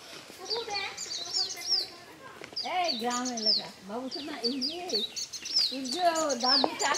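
Wild birds sing in the Sundarbans beside a roadside path to a temple, with bright repeated chirps and warbling phrases rising and falling at close range while people talk over them.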